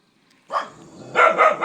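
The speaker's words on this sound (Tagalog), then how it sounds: "Ito pala guys yung alaga namin yung aso dito sa dulo." A pet dog kept at the far end of a security guard's post barks in a short burst, first one bark, then a quick series of close, loud yips and barks, with no talking.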